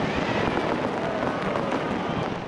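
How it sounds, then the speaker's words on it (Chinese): Fireworks bursting over a night celebration for Singapore's 50th National Day, forming a dense, continuous wash of crackling and popping at moderate level with no clear separate bangs. "晚间绚烂的烟火表演让狮城民众赞叹连连"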